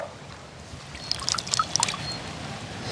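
Gongura pods are rinsed in water by hand, with light splashes and trickling drips clustering in a short burst midway, close and fairly quiet.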